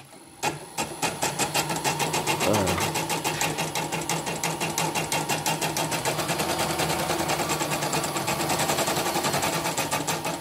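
A small engine runs a CNY E900 dynamo generator on a test bench with its sensor removed, a fast steady mechanical clatter and rapid ticking that start abruptly and continue evenly and loudly throughout.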